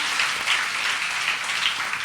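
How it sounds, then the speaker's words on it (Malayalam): A retreat congregation at Mount Carmel claps in praise, a steady, moderately loud patter of many hands that keeps an even level from start to finish. "നമുക്ക് കൈയടിച്ച് മാതാവിന് സ്തോത്രം ചെയ്യാം"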